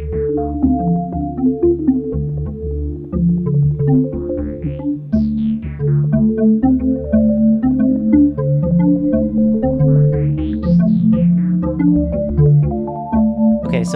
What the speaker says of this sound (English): have ambient music come out from the background